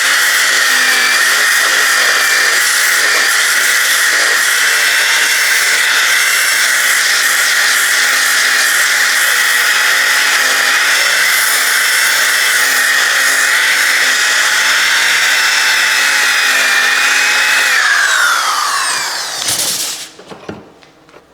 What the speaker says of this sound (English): Used my construction sander to get this cleaned up.